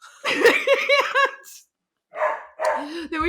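Loud dogs bark in a quick run of sharp, close yelps, then break off into a short silence before further barking and vocal sounds pick up again.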